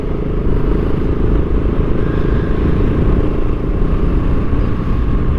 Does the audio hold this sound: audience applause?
no